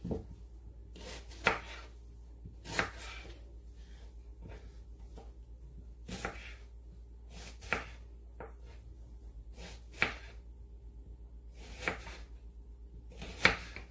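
Onions chopped by hand with a knife for soup: sharp, isolated cuts at irregular intervals of a second or two over a low steady hum, moderately close and quiet.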